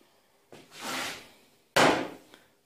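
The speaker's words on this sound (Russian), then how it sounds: "Вот что значит молоток." A hammer works a dent out of the body panel of a Daewoo Gentra car: two separate knocks in a quiet workshop, the second sharper and louder, each trailing off in a short ring.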